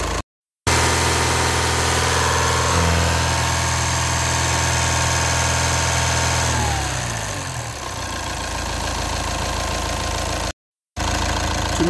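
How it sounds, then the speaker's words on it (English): A diesel car engine fitted with a DPF is revved to about 2500 rpm, a steady close-up mechanical drone that shifts in tone partway through, with two brief dropouts. "So what I want to do here is to rev the engine maybe to 2500"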